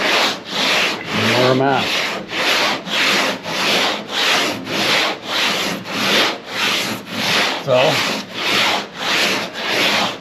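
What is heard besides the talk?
sanding a Power Wagon door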